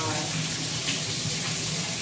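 Hot water running steadily from a tap into a sink, a continuous close-up splashing rush with no breaks.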